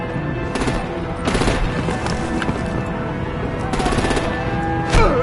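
Artillery and heavy automatic gunfire in a Batman video game, loud rapid bursts of shots in clusters with rattling impacts over a constant battle din, no speech.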